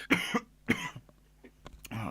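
A man coughs a few times in short bursts during a podcast chat, close and fairly loud, followed by some quieter throat noises.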